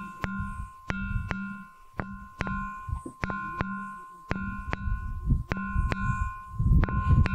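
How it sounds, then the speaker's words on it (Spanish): A ringing bell stone, a piedra campana, struck again and again, giving short metallic pings with a sustained ringing tone in irregular clusters over low thuds and background rumble. "Vamos a escuchar el sonido de la piedra."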